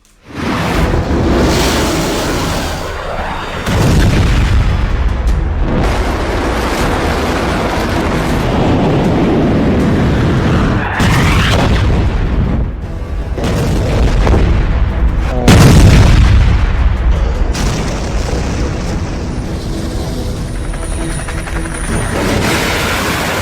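Missile strikes in an Iran–America war news report come as a long stretch of heavy, rumbling booms and roaring blasts, loud and continuous with several surging peaks and no speech over them.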